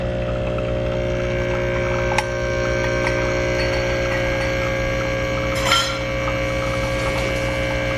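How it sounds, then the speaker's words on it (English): A Breville intro barista espresso machine runs with a steady electric pump hum and buzz, close and continuous, broken by a few small clinks and a brief hiss near the end, with no speech. "It's an intro barista machine by Breville."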